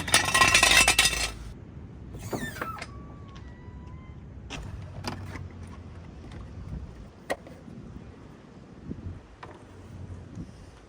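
Metal scrapes and clinks as a jack stand and oil drain pan are shifted under a car during a beginner oil change: a loud scraping burst at first, then scattered light knocks and clanks, with faint squeaks.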